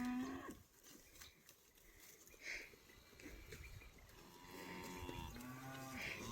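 Cows low on a farm in spring, a couple of drawn-out moos rising over soft outdoor background noise, with no talk in between.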